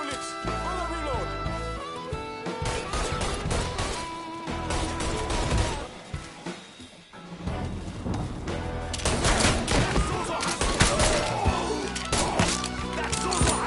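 Gunfire in the video game Mafia III, dense rapid bursts of automatic fire and heavy shots under a music score, with a voice shouting over the din.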